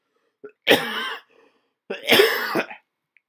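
Two harsh coughing fits, close and loud, separated by a short pause, with nothing else in between.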